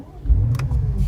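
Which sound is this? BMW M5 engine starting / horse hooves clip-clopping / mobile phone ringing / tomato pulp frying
BMW M5 engine starting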